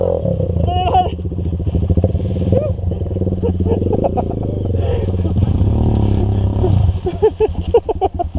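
An enduro motorcycle climbs a muddy trail without stopping, its engine droning and revving steadily close by throughout, with clattering and splashing and people talking over it.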